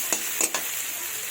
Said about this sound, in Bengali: যাতে আমার পেঁয়াজটা লাল লাল করে তাড়াতাড়ি ভাজা হয়ে যায়।